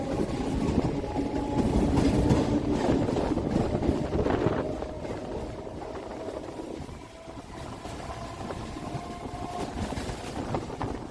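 A Kolkata Circular Railway train runs along the Ganges bank near Bagbazar, giving a steady rumbling rattle with gusts of wind buffeting the microphone, loud and sustained throughout.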